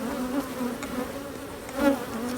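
Honeybees buzz at an open hive, agitated and fired up, a dense, close, continuous drone that swells louder for a moment near the end.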